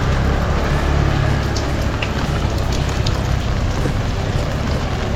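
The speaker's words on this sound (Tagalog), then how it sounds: "Grabe ulan." Heavy rain pours down steadily, a dense, loud hiss of drops drumming on surfaces close by with no pauses.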